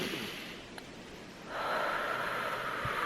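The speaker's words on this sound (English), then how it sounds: "Let's breathe together, okay?" Deep breathing of fresh winter air: a slow exhale fades out, then a strong, close inhale rushes in and holds steady to the end.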